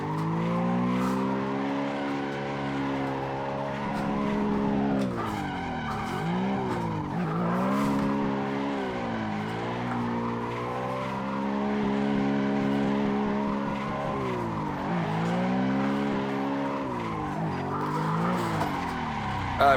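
Tires squeal steadily on a BMW E92 or Supra drifting in the racing game Assetto Corsa, with engine tones rising and falling as it slides through transitions, loud and continuous for the whole stretch.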